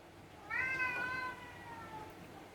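A single cat meows once, a clear drawn-out call near the microphone, fairly soft against a quiet room.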